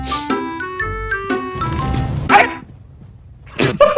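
A man imitates a dog bark with his voice amid video game sounds, giving a couple of yelping barks near the middle and end over music and background game noise.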